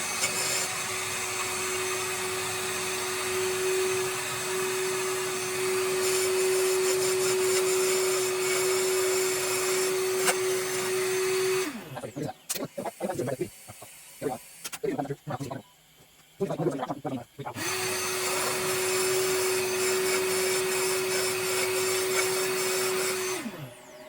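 A Serdi 3 machine cuts out old valve seat inserts with a loud, constant whine carrying a steady tone. Midway it stops for a few seconds of irregular clanks and knocks, then the whine resumes.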